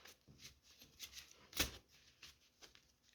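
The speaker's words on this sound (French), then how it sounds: "Je mélange les cartes." Close riffling and snapping of a deck of tarot-style playing cards being shuffled, a quick uneven patter of flicks with one louder slap midway, quiet and without talk.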